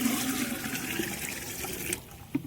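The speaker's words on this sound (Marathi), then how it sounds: "पाणी गरम करायला लागेल, तर सर्वात पहिले पाणी टाकून घेतो मी हांड्यातनी" Water poured into a metal pot (handa) for heating over a wood-fired stove, a steady splashing gush running for about two seconds before stopping, followed by a brief clank.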